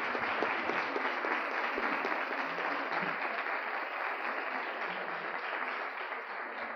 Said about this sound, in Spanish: Podéis aplaudir.